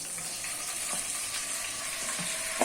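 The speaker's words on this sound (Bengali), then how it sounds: "মশলাটা ভালোভাবে কষানো হয়ে গেছে" Spice paste of turmeric, chili powder, kasundi and salt frying in a pan for amra pickle, a steady soft sizzle with light stirring scrapes, close and continuous without talk.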